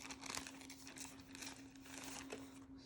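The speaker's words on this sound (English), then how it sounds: "all the plastic bags and all this stuff" Plastic wrapping bags from a Super Nintendo Classic Edition console box crinkle and rustle in quick, faint bursts, quiet and close with no talking.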